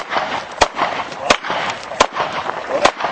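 Pistol gunshots at an outdoor shooting range, four sharp loud cracks spaced roughly evenly apart in quick succession, with a coach's voice talking between and under the shots.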